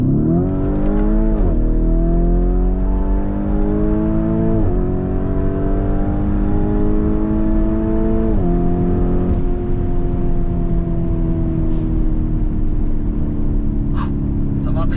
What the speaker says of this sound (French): je vais passer en mode Corsa et je vais vous faire écouter l'échappement